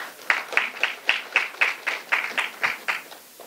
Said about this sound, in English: Another hearty round of applause to them.